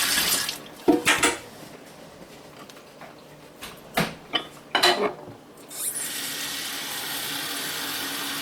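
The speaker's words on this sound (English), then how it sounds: "We're going to add 4 cups of hot water to it." Hot water is poured into shredded soft soap to make old-fashioned laundry soap. A few sharp clinks and splashes come first, then a steady, close pour runs for the last few seconds in a quiet room.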